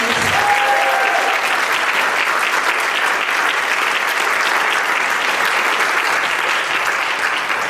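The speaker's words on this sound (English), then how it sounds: "So can we get a round of applause for Cass?" An audience at a school district performance of Sleepy Hallow claps steadily in a dense, sustained round of applause that fills the room without pause.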